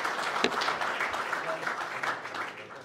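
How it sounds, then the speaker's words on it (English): A seated audience at a panel discussion applauds the speakers, a steady wash of clapping heard at moderate distance that fades slightly toward the end. "Let us give them another applause, please."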